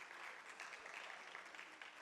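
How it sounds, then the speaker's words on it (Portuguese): A church congregation applauding during a worship service, a steady wash of clapping at a moderate, even level, with no clear voices on top. "Vamos aplaudir"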